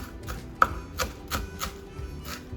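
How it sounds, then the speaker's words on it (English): A knife chops meat for Vietnamese bun cha on a board in Hanoi, a steady run of close, dull thuds at roughly even pace with one sharper hit, and no voices over it. "Takes a little bit of a knife now, cut some."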